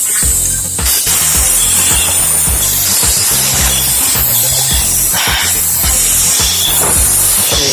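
Cleaner sprayed into the cleaned holes of a Yamaha RX motorcycle carburetor, a loud, continuous hiss over a rhythmic mechanical beat, close up.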